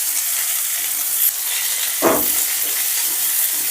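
Vegetable pilaf with fried cashews and raisins being stirred in a frying pan over low heat, giving a steady, loud sizzle with a brief scraping stir sweep partway through.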